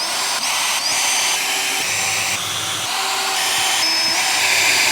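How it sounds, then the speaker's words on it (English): Power drill boring holes into a desk tabletop, a loud continuous high whine that holds steady for several seconds with slight shifts in pitch as the bit bites into the wood. "I've marked my drill bit so we don't drill all the way through the table."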